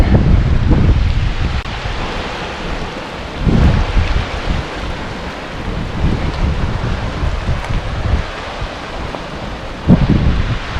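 A waterfall in Yosemite, on the trail from Tuolumne Meadows to Glen Aulin, makes a steady, broad rushing roar, mixed with gusting wind on the microphone and no voices.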